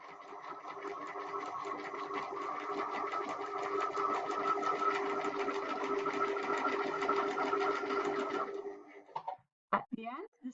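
Sewing machine stitching straight lines through a paper page, a long steady close hum that runs evenly for about eight seconds, then stops, followed by a few soft handling clicks.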